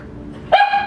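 A single sharp bark from a pet dog at home, loud and close, preceded by a quiet room.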